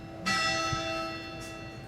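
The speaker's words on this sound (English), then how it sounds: "I'm waiting for the bell to end." A bell rings out clearly in a quiet room during a court trial: a bright, sustained toll with long humming overtones, then a second softer strike near the end, no voices.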